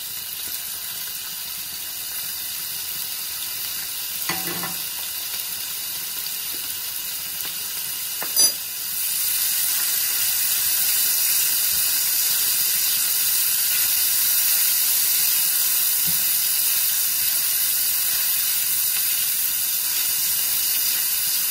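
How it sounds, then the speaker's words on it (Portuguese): Bacon sizzling in olive oil in a cast iron frying pan, a loud continuous hiss that swells sharply after a brief clatter and then holds steady, close, with no talk. "Frita o bacon."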